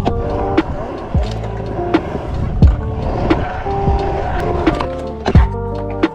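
Skateboard wheels roll and rumble continuously around a skate park bowl in cold weather, with repeated sharp clacks and thunks as the board hits coping and transitions, close and loud with no talk.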